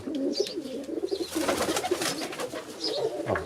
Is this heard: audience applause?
no